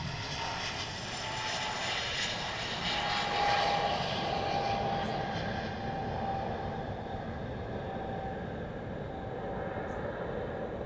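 A Pegasus Airlines jet at Stansted Airport gives a distant, continuous roar that swells slightly mid-way and then holds steady, with no voices.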